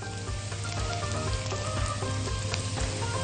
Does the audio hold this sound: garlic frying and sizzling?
yes